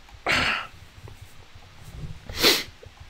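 Two sharp sneezes, one early and one just before the end, burst out close and loud against a quiet background.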